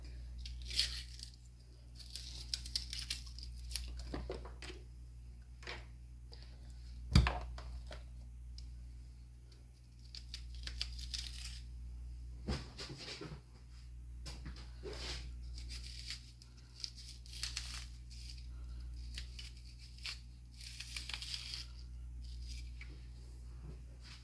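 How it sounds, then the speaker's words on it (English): A knife cuts bell pepper and onion into big pieces on a board, making quiet, irregular crunches and chopping taps with pauses between them over a low steady hum. "I got me some bell pepper and some onion. And we're going to cut this here up."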